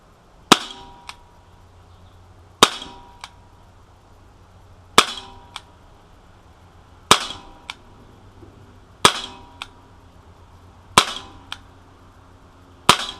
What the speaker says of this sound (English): It's the first time I've shot this pistol, so we'll have to see how it does here